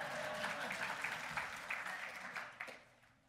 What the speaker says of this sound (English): I think we should always clap for President Obama